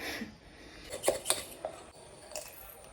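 A spoon scrapes and chips at dried, stuck-together instant coffee in a jar, giving a few quiet, clicky metallic scrapes close by with brief pauses between them.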